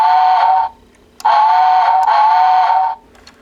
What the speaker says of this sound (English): It has a really loud whistle to it.